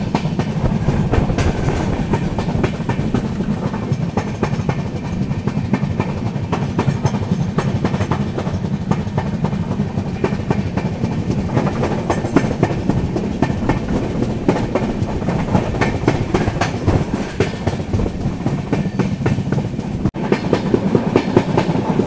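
The Mandovi Express running on the rails between Mumbai and Goa, a loud continuous rumble with steady rhythmic clickety-clack of wheels over rail joints, heard from inside the train.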